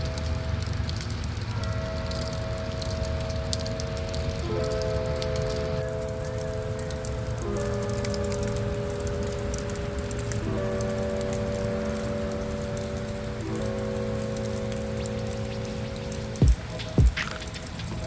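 Rain patters on an Arizona homestead beside a crackling outdoor fire of mesquite wood, a steady soft wash of drops with a sustained tonal hum underneath and a couple of sharp knocks near the end.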